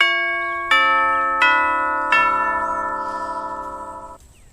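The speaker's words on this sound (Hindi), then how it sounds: "तभी अचानक दरवाजे की घंटी बजती है।" A doorbell chimes four times in a descending ding-dong pattern, each strike ringing out and decaying into a shared sustained tone, clear and close in a quiet room.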